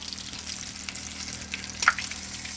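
Breaded country-fried pork chops, coated in egg wash, cornflakes and breadcrumbs, sizzle steadily in oil over medium-high heat on an electric range, with a soft crackle and a brief louder pop near the end.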